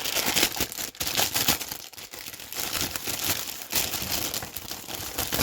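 A toy box package is torn open and unwrapped, giving continuous loud crinkling and crumpling of plastic and paper with sharp tearing bursts, close to the microphone and without talking.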